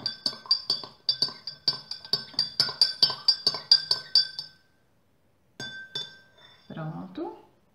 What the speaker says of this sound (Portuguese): Então, vamos mexer.